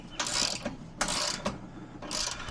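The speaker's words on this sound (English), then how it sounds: "these ratchet drills can be pretty tough" A ratchet drill tightens bolts in three short bursts of whirring mechanical clicking, close and moderately loud, with brief pauses between them.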